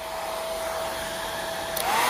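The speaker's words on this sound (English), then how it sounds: "keep the hair dryer on a particular spot" A hair dryer blows steadily with a constant whine and airy rush, rising slightly in pitch near the end.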